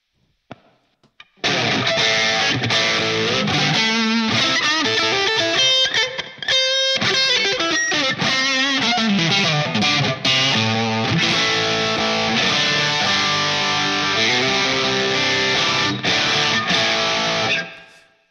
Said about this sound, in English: now let's hear it with the tube screamer.